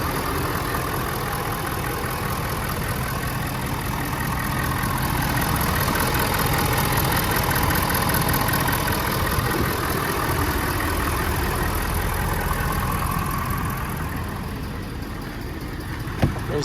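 A 2022 King Ranch truck engine idles steadily at close range, a constant smooth drone that swells slightly midway and holds without revving.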